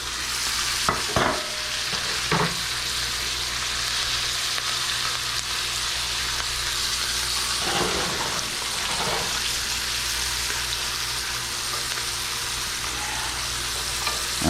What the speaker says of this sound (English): Drop down some more butter and our garlic and our herbs.